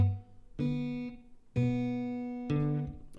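Acoustic guitar picked fingerstyle, the thumb pinching bass and treble strings, playing the opening bar of Jingle Bells: three ringing struck notes about a second apart, each sustaining and decaying, with no voices.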